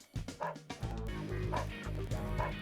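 A police dog in a video game barks in a quick series of sharp woofs and yips, fairly quiet, over a steady hum of game background sound.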